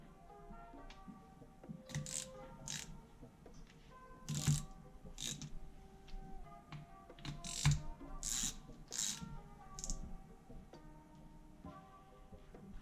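A hand ratchet clicks in short bursts while bolts on a Honda CR250R engine top end are tightened evenly, quick close clicks scattered across the stretch with pauses and faint handling noise between them.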